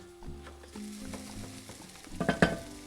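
Onions frying in a hot pan for an eggplant and pepper dish, with a close, steady sizzle, scraping strokes from a spoon stirring through them, and a few louder clacks near the end.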